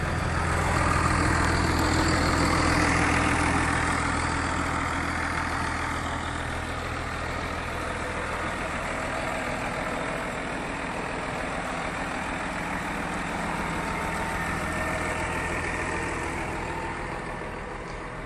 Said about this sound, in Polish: Ciągnik ten napędza 115-konny 6-cylindrowy turbodoładowany silnik